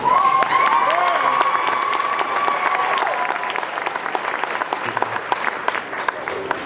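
Audience applauds the clarinet section at a sixth grade holiday school band concert, a tonal instrument note fading under the start, then steady crowd clapping with a few scattered cheers continuing to the end.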